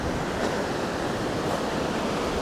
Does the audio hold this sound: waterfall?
yes